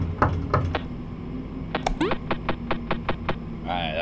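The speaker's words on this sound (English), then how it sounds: "that was a weird knocking sound" Knocking in the horror game Dreader, a maze setting, with a series of sharp, hollow knocks, first a few spaced raps, then a faster run of evenly timed knocks, close and distinct over a low background hum.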